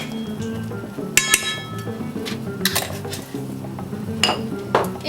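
A large spoon clinks against a dish while couscous is being made at home: bright metallic taps and scrapes in several small clusters, close and fairly loud, with no talking.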